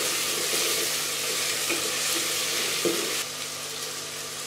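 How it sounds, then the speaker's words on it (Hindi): Chopped green chillies and spices sizzle steadily in a pan for chana pulao, a continuous close hiss broken by a few light stirring knocks. "अब मैं इन सारी चीज़ों को अच्छे से भून लूँगी।"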